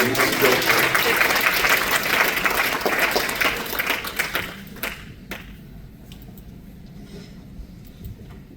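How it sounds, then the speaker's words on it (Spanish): Loud, dense applause from a church congregation for about four seconds, then tapering off into scattered claps and a few thumps as the room quiets. "Dale un fuerte aplauso, gracias a Dios."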